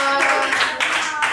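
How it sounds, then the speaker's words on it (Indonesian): A group in a classroom applauds, a steady wash of clapping hands running throughout with a few louder swells, fairly close and continuous. "Tapi berikan aplaus ya kelompok"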